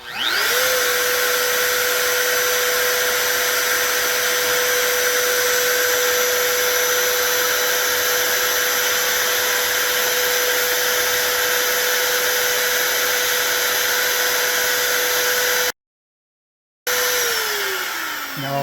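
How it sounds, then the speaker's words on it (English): A router cuts flutes into a screwdriver handle mounted on a wood lathe, giving a loud steady high-pitched whine that spins up, holds evenly for about fifteen seconds and then winds down. "Now I'll turn off the router"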